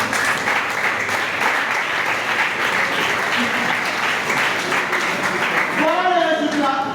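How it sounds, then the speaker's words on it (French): A crowd at a children's reading festival in Kinshasa applauds in a dense, steady wash that lasts several seconds, and a voice starts speaking near the end. "Est-ce que vous pouvez applaudir pour l'ICIBA?"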